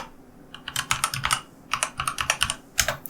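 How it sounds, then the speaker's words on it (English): Someone types a short word on a computer keyboard while setting up an online course page, giving quick bursts of crisp, close key clicks with brief pauses between them. "I'll just type in here learning"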